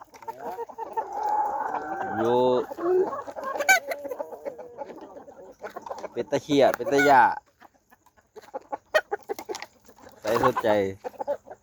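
Farm chickens cluck and a rooster crows in bursts, loud and close, with someone talking between and over the calls.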